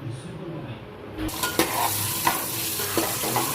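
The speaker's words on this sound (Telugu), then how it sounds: "ఇలా ఉప్పు కారం పసుపు నూనెలో వేసి కొంచెం సేపు వేడి చేయాలండి కొంచెం ఫ్రై చేయాలి" Salt, chili powder and turmeric frying in hot oil for an egg dish, a steady close sizzle that swells suddenly after a quiet start, with occasional scrapes and taps of a stirring spoon against the pan.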